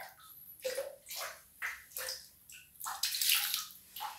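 Water is poured and splashed over a tiled bathroom floor cleaned with oxalic acid, heard as repeated close sloshing gushes in an irregular rhythm with no talk over them.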